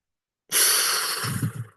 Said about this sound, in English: Breathing into the heart.